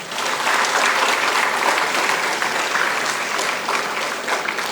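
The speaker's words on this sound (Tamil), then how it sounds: "ஒரு கைத்தட்டல் கொடுங்க" Students at a college freshers induction program give a loud, dense round of applause, steady and sustained clapping from a large audience filling the whole stretch.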